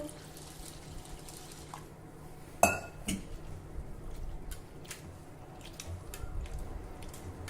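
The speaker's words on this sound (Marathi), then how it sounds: "सर्वप्रथम हे पोहे आपण पाण्याने स्वच्छ धुवून घेऊ" Poha, flattened rice, being rinsed with water in a bowl, giving soft sloshing and splashing with a few clinks of the bowl or spoon against it.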